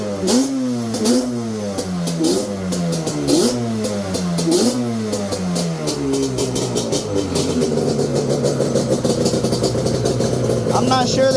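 A Yamaha Banshee ATV engine fitted with 330 jets revs up and down in repeated rising and falling bursts, then settles into a rough, fast, burbling idle, loud and close.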